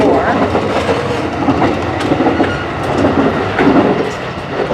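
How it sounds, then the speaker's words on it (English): Inside a moving Japanese train, a loud continuous rumble with rhythmic clickety-clack of wheels on rails and faint creaks, no talking. "I want to show what it is like to move on a train."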